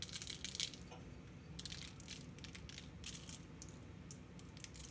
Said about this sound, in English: And then I've got some Demerara sugar. I'm just going to give them a good sprinkle.